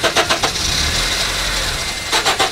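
A car engine cranking after its lights were left on, with repeated starter bursts, a sustained low churning crank in the middle, then more choppy cranking at the end, loud and close without catching.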